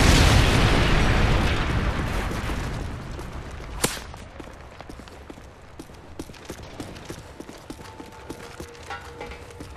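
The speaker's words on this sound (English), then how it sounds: "Friendly Predator missile inbound." Predator missile explosion in Modern Warfare 3: a huge booming blast opens loud and slowly decays into a long rumbling tail, followed by scattered distant pops and gunshots.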